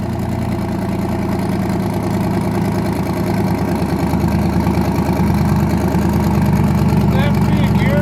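A car freshly fitted with new twin turbos idles on its first start, a loud, steady, rumbling engine note that thickens slightly toward the end, close by and uninterrupted.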